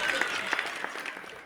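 A brief patter of audience applause rises at a Hindi comedy poetry show, with scattered claps heard under a voice that keeps talking.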